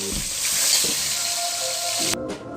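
One kilo of meat browning in a hot pan for a red meat curry, a loud, steady, close sizzle with faint clinks of handling, cutting out sharply near the end.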